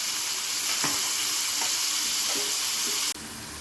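Sliced radish sizzles and spits in a hot pan after a splash of water is sprinkled in, a steady frying hiss with a few sharp crackles and pops, cut off abruptly near the end.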